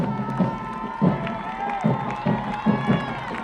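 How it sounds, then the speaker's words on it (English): Home crowd at a North Greenville Crusaders college football playoff game against Tuskegee, cheering steadily in the final minute, a continuous roar with several louder surges and shouts. "Crusader crowd getting into it"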